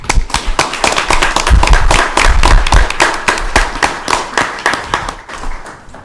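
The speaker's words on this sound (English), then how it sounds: "So one final round of applause" A meeting audience at a county commissioners session gives a final round of applause, sharp separate claps building into a lively patter and then thinning out toward the end, fairly close, with a faint voice underneath.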